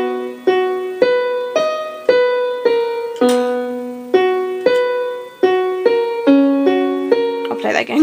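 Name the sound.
piano playing a bar of an intro slowly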